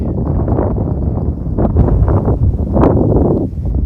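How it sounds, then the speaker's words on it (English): Strong wind buffets the microphone in a steady, rumbling roar, with a couple of louder gusts, outdoors during a mule deer hunt in Arizona. "Oh, it's so windy."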